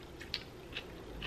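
Crunchy bites of vegan Thai noodles with purple cabbage, a few soft crisp crunches spaced apart, close up and quiet, with no talking.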